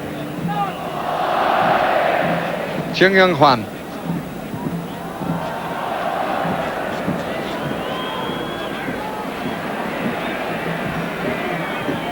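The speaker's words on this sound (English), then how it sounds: "the passing being greeted with some oles from the Mexican crowd" Mexican crowd in a packed stadium at a 1986 World Cup match, Argentina against South Korea, keeps up a steady roar with a brief swell of rhythmic shouting near the start, while a commentator talks over it throughout.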